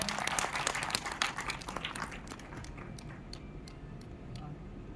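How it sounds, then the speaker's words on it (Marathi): Loud applause greets the opening of a historic conference attended by former minister Rajkumar Badole; dense clapping rises over the first couple of seconds, then thins and fades to a low murmur. "सर्व मान्यवर मंडळी या ऐतिहासिक चिंतन परिषद जोरदार टाळ्या होऊन जाऊ द्या"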